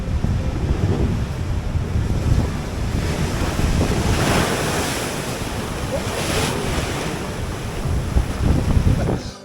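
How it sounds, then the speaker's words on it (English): Rough surf crashes continuously along the stormy coastline of Freshwater Bay on the Isle of Wight, loud and close, with heavy wind buffeting the microphone and swelling surges of breaking waves. "the way the waves crash in here"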